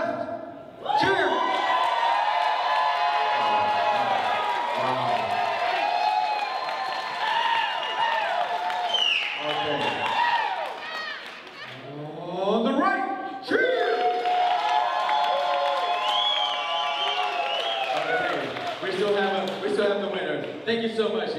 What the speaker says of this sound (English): On my left, cheer!